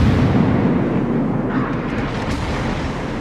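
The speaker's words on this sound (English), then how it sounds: "the Hindenburg spotted him and the other rest of the allies, and began to fire armor piercing at him" Heavy cruiser Hindenburg firing armor-piercing shells in World of Warships, heard as a dense, loud, rumbling roar of distant naval gunfire and explosions with no clear separate shots.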